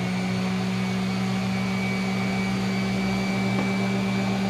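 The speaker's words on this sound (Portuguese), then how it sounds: "Eu vou ligar a tupi e vamos fazer o teste" A wood router switched on and running, giving a steady, loud motor whine with a constant tone and no variation, no one talking.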